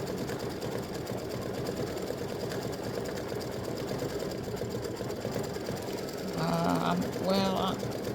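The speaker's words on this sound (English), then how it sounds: "it does this funny little stitch, which is also a built-in stitch" A sewing machine runs steadily up close, stitching a built-in decorative stitch with a continuous whirring hum, while a person talks over it and a brief chirping sound rises near the end.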